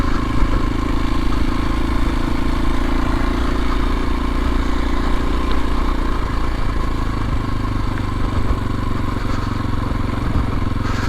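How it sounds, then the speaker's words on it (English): A 2022 Kawasaki KLX230SE dual sport motorcycle rides a dirt loop, its single engine droning steadily and loud throughout, with a faint clatter over the hum and no talk. "we're gonna go ahead and take the little KLX 230 down through this loop"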